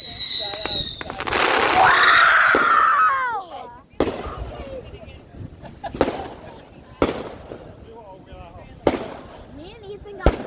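Fourth of July fireworks bursting one after another, sharp booms spaced a second or two apart with crackling and whistles, while children shout and squeal excitedly nearby, especially early on.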